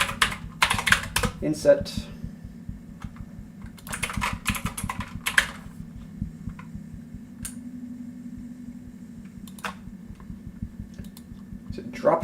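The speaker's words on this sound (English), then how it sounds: "we should probably just type in inset as well" Fingers typing on a computer keyboard while building a web page's inset text shadow, a steady run of close, quick clicks and taps with short pauses, heard under a man's occasional speech.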